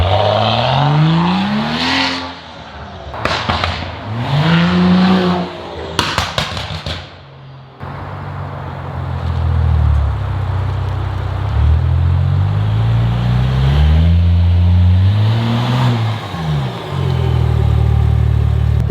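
A car driven after an air-conditioning freon recharge: the engine revs up and settles repeatedly, rising and falling tones of acceleration and gear changes with interior rumble, close and fairly loud, no talk.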